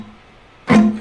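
A badly played barre chord on guitar: after a near-silent pause, one loud strum rings out briefly and slightly muddied before fading.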